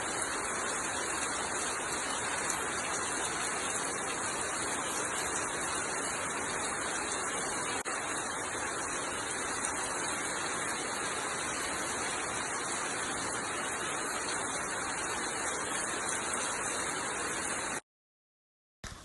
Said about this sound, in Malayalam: പുറത്തിതാ എപ്പോഴും നല്ല മഴ പെയ്തുകൊണ്ടിരിക്കുകയാണ് കേട്ടോ